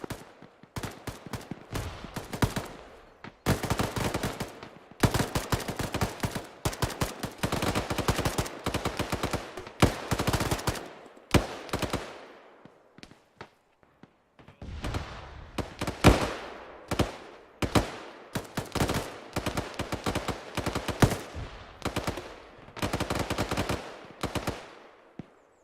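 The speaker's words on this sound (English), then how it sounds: "If you can get some MG fire on that." Bursts of automatic machine gun fire in the military shooter Arma rattle out in long rapid strings with brief pauses between them, loud and close, with no talking.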